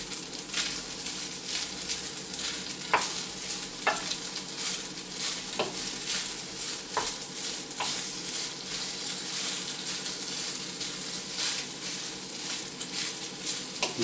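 Garlic prawn pasta is stirred in a sizzling pan, a continuous soft fry with periodic clicks and scrapes of a utensil against the metal, close up and unaccompanied by speech.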